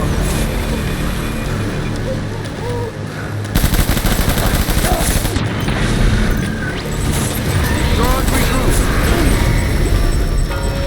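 Gunfire in the Death Stranding video game: dense, loud bursts of rapid automatic shots with booming impacts, starting a few seconds in and continuing under shouted voices and mechanical game noise.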